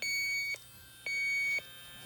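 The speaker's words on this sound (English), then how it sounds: "beeping and the sound of my leak detector here" A refrigerant leak detector scanning a new-construction Trane evaporator coil, giving steady electronic beeps in two long tones separated by a short gap, close and clear with no talk.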